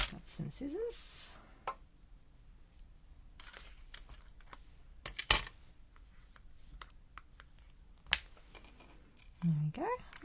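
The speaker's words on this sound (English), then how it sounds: "Some scissors." A few sharp snips of scissors cutting card-making paper, spaced apart amid quiet handling noises and soft talk.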